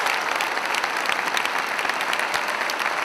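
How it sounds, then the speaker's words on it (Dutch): Dense, steady applause from a large crowd at an N-VA New Year party, honouring Geert and Philippe, filling the room evenly with continuous clapping. "Graag een applaus voor Geert en Philippe."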